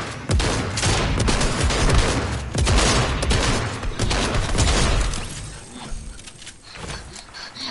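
Rapid gunfire in a Fortnite no-building cup match, dense overlapping bursts of shots and booms loud and close for most of the stretch, thinning out toward the end.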